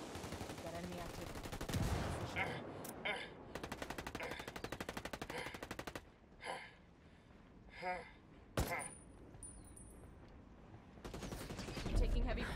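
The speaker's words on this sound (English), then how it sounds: "You're taking heavy fire here." Heavy automatic gunfire from the Ghost War multiplayer game: rapid sustained bursts alternating with single loud shots and dull thumps, close and dense, with a final surge of fire at the end.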